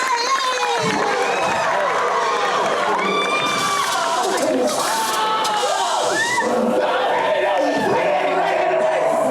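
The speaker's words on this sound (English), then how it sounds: "Big round of applause for Barbie, everybody!" A theme-park audience at a horror make-up stage show at Universal Studios Florida claps and cheers loudly and steadily, with shouts and whoops, while a presenter's voice carries over the crowd.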